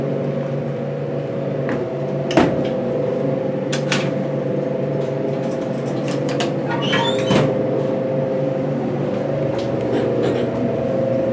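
Original doors of a modernized Otis traction elevator at a Miami Beach hotel slide with a steady hum and a couple of sharp clunks and rattles, close and fairly loud.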